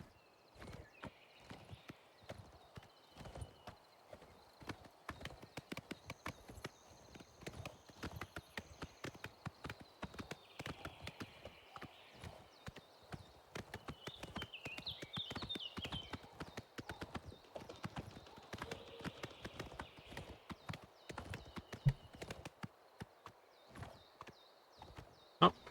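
A horse's hooves clip-clop steadily in the video game The Elder Scrolls IV: Oblivion, a dense run of sharp, evenly paced beats that continues for the whole stretch at moderate loudness.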